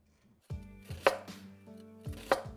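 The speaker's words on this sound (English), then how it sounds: "Chopping veggies" Vegetables chopped with a knife on a board in a home kitchen, two clusters of crisp, close cuts with a few strokes each and nobody talking.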